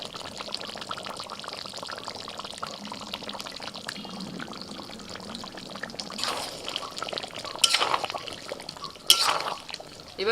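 Fresh cream pours into a pan of simmering chicken curry (Chicken Maharani, with chicken coming off the bone), a soft wet stream swelling near the end among light clinks and the low bubbling of the pot.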